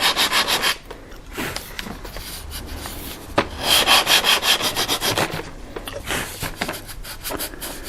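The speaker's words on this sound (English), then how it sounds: "For the sanding, I'm just going to start with a rather coarse set of sanding block" Coarse sanding block scraping back and forth over a foam model F4U Corsair aircraft wing during repair, loud rhythmic rasping strokes up close with brief pauses between passes.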